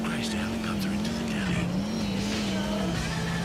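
A Sentinel XS car in GTA IV, its engine holding a steady, wavering drone with tire noise and a slight screech, heard close and continuous throughout the short stretch.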